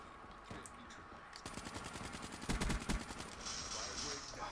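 Automatic gunfire in the video game Call of Duty Black Ops 3, rapid bursts of shots at moderate distance, with a denser, louder volley near the middle and a hiss trailing at the end.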